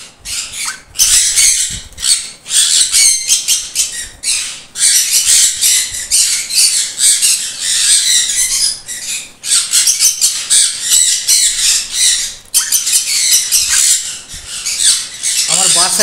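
Conure parrots, including a sun conure and crimson-bellied conures, screech in harsh, repeated squawks, loud and close, with short pauses between bursts.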